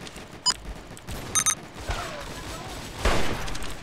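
Sharp gunshots from a Roblox shooter game crack in short bursts, two quick pops then a small cluster, followed by a louder, longer blast of fire near the end over a steady game background.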